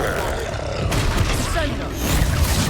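The explosive Confringo spell in the video game Hogwarts Legacy, cast during a troll fight, lands as a loud booming blast with rumbling, crackling noise that carries on after the hit.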